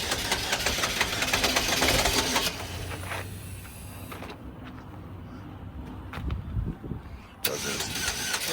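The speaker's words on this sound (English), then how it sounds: "You can hear the engine on it trying to start up." A car at a police tow auction cranks repeatedly with a loud, rapid starter whir that fails to catch, falls quiet, then cranks again near the end, with people talking nearby.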